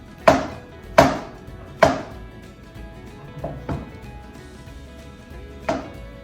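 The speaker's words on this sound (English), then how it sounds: "I'm gonna slice my mushrooms just into thin slices." Cremini mushrooms being sliced thin on a cutting board with a knife: several crisp, separate chops, three close together and then a few lighter cuts spaced apart, near and distinct, with no talking.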